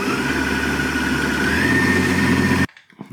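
Electric mixer beating cream cheese for a no-bake blueberry cheesecake, a loud steady motor whir running about two and a half seconds before cutting off abruptly into near silence.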